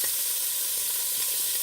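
Food browning in a hot pan, a steady loud hiss of sizzling oil filling the whole moment with no break.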